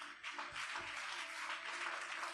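Congregation applauding at a French church service, a steady wash of clapping filling the whole clip at moderate loudness, with no voices standing out.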